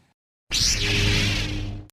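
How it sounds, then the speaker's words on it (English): A lightsaber ignites with a sudden swooshing surge and sweeping pitch, then holds a buzzing hum before cutting off after about a second and a half. "lightsabers have different noises when they turn on."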